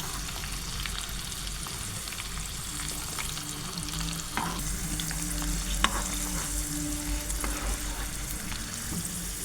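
Spices tempering in hot oil for a citron pickle, sizzling and crackling continuously up close with occasional pops and stirring scrapes.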